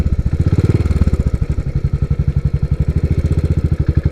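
A Royal Enfield Continental GT 535 single-cylinder motorcycle engine thumps steadily while being ridden, a loud, close, rapid and even pulse of exhaust beats lasting throughout with no talk.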